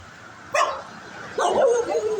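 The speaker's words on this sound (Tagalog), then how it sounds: "Ay, aso." A dog on a neighborhood street gives two sharp barks about a second apart, fairly close and clear over quiet outdoor background.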